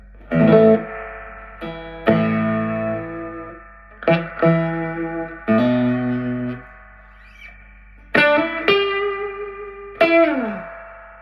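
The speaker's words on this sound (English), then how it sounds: "the spring reverb set around about number 8 on the amp" Electric guitar notes and chords played through a vintage Audition 15-watt amp head with heavy spring reverb set around 8, each phrase ringing out in a long washy tail between pauses.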